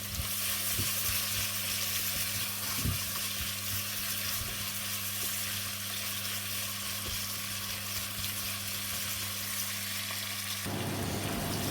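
Deer curry ingredients fry in a pan with a continuous, even sizzle and a few soft stirring knocks, heard up close without any talking.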